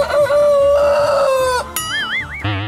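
Loud, close rooster crowing and excited squawks from chickens, with a long strained call followed by warbling, wavering cries.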